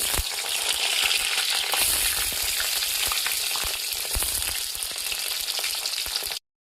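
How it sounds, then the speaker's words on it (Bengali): Eggplant slices fry in hot oil in a wok, a dense, steady crackling sizzle held close and loud for several seconds before stopping abruptly. "এবার কড়াই বেগুনগুলো আগে ভেজে নেব"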